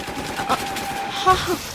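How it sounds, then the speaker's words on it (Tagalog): A pistol gunshot sound effect in an Ilocano radio drama cracks out in two short, sharp bursts against a dim background. "Anya ti kay papanan ti putok ti paltog."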